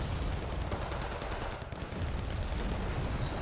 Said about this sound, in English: BM-24 just firing some normal rocket arty